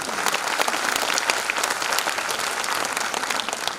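An audience at a Grand Parents Day event claps for an elderly guest of honour, with dense, steady applause filling the room throughout.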